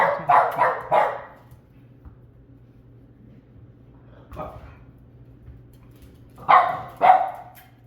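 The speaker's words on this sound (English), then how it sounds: "if she keeps barking" A dog barks in a quick burst of three or four, pauses, gives a single bark, then two more sharp barks close to the microphone.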